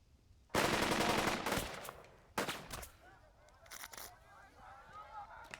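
Gunfire in the WWII tactics game Burden of Command as a squad opens up on exposed paratroopers: a sustained loud burst of automatic fire, then a second sharp volley and scattered shots trailing off into distant battle noise.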